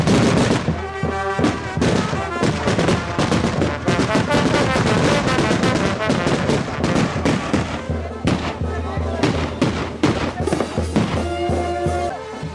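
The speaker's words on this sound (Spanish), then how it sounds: "se disponen a dejar el campo previa reventazón de camaretas y cohetes al compás" Rapid string of loud camareta mortar and rocket explosions at a December 8 festival in Laramarca, sharp cracks and bangs firing continuously with no pause.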